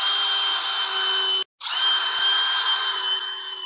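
A power drill drives screws into wooden fence boards with a loud, close, steady whine that stops for a split second and then resumes at the same pitch.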